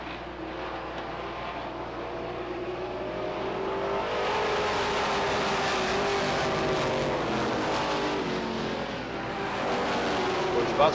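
Stock cars racing at Beech Ridge Motor Speedway in 1991, a steady loud roar of several engines that swells as the pack comes out of turn 4, with a commentator talking over the noise.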